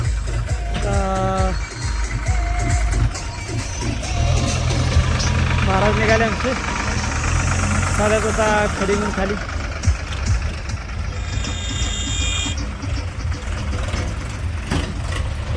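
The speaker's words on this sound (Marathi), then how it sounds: "हा एक ट्रॅक्टर भरायला येते बघा" A tractor engine runs at a rural road construction site where a new asphalt road is being laid and the tractor is loaded with gravel, giving a steady, loud, low rumbling idle under ongoing talk.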